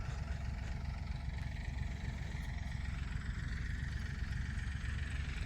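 A tractor engine idles in a farm field, holding a steady, even, low chugging rumble at moderate distance with no talk.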